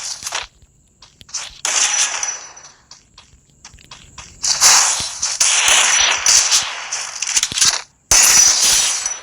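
Automatic M10 gunfire in the Free Fire video game sounds as sharp, crackling bursts of shots with short gaps between them, loud and close, mixed with faint footsteps and game clicks.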